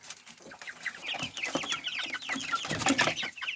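Hybrid chickens cluck and chatter continuously while being fed, several birds close by with overlapping squawks and short calls.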